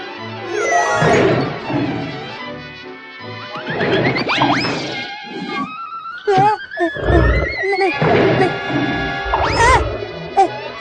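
Loud, dramatic cartoon lion roars and growls rise and fall repeatedly over a busy cartoon-style soundtrack with music and effects.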